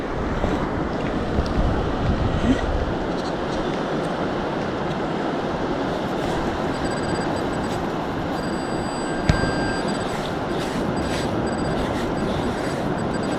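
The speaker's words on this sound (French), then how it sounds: "Je me méfie parce que les vagues arrivent." Sea waves roll onto a beach at night, a steady close wash of surf that fills the whole stretch with little change in loudness, and a few faint high electronic beeps sound partway through.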